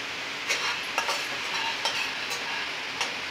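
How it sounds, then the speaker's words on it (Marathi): Peanuts dry-roasting in a pan for a javas (flaxseed) chutney give a soft continuous rustle with a few sharp clicks and scrapes of stirring, close and moderately quiet, no voices. "आपण याच्यामध्ये थोडे शेंगदाणे भाजून घेऊया"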